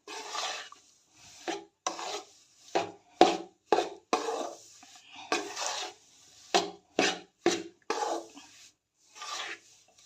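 Gram flour roasts in ghee in a pan as a spatula scrapes it in repeated rasping strokes, an uneven rhythm of short rough sweeps heard up close, with no voices.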